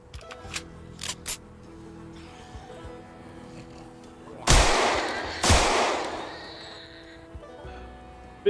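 Two sharp, loud gunshots ring out from a repaired firearm in the zombie survival game Project Zomboid, spaced about a second apart, each trailing off in a brief reverberant tail, with faint scattered clicks beforehand.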